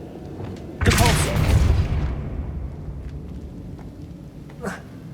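Depulso spell cast in the video game Hogwarts Legacy, a sudden loud whooshing burst with a rumbling, boom-like body that swells and then fades over a couple of seconds, followed by a shorter bright swish near the end.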